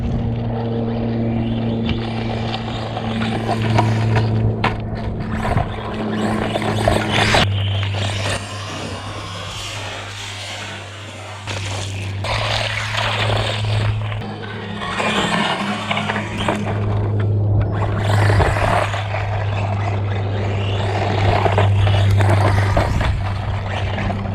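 An HBX 1/16 brushless RC truck drives steadily nearby, a continuous loud motor whine and drone with scraping wheel noise that briefly dips and then returns.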